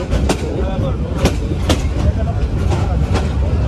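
Balaka commuter local train in motion, heard from inside a carriage as a loud, continuous low rumble with rhythmic clicks from the wheels passing over rail joints.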